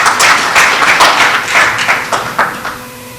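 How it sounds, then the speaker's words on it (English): Audience applause rings out at an official ceremony where a health minister is about to speak on a national health insurance bill: steady, close, loud clapping from many hands, thinning out near the end. "I guess it's good that you clap before I start"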